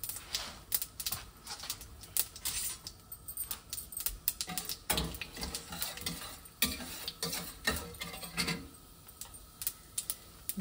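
Tempering seeds crackle and pop in hot oil for upma, a dense run of sharp irregular clicks and light sizzle close by, steady throughout with no speech.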